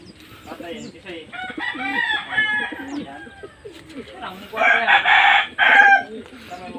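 A rooster crows twice, loud and close, the second call longer and brighter, with people chatting in the background throughout.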